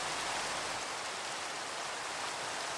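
Rain falling in a steady, even hiss of fine drops, soft and continuous throughout, with no voices.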